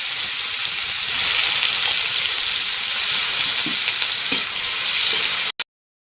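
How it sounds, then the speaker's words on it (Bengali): Nigella seeds, bay leaf and green chili frying in hot oil for a Bengali lentil dish, giving a steady, loud, close sizzle with a few faint stirring taps. The sizzle cuts off abruptly near the end. "তার সঙ্গে দিয়ে দেবো যে কালো জিরে আর দেব তেজপাতা আর দেব সঙ্গে কাঁচা লঙ্কা আছে"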